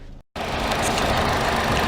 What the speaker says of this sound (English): when the engine's sitting there doing that